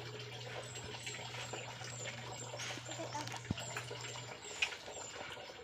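Water runs from a tap in a steady, soft trickle beneath a low electrical hum, with a couple of faint knocks and a brief bird chirp in the background.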